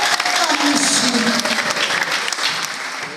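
A church congregation claps loudly and continuously during a testimony gathering, a dense wash of hands that eases slightly toward the end.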